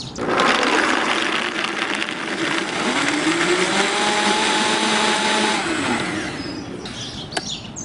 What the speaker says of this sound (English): we're just gonna stick the top on and we're gonna blend it up